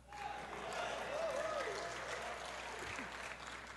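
Applause from the audience at an open plenary meeting in Makassar for naming the mayoral candidates, a sustained wash of clapping that swells and holds, with a voice talking faintly over it.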